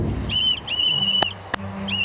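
Whistle blown by a girl, several shrill sustained blasts with short gaps between them, clear and moderately close, along with a couple of sharp knocks and a low background murmur.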